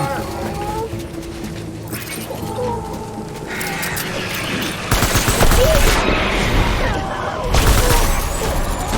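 Bursts of gunfire in the video game Death Stranding, a rattling fusillade growing louder and denser after the midpoint, layered over a busy game soundscape with speech mixed in.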